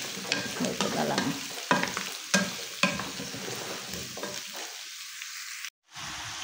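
Pork pakbet vegetables are stirred in a sizzling pan, with scraping strokes of the utensil repeating over a steady fry before a brief pause near the end.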